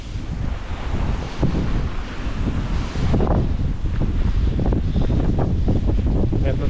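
Strong wind buffets the microphone in heavy, roaring gusts, loud and continuous, with a surf-like rush underneath and a voice briefly talking through it.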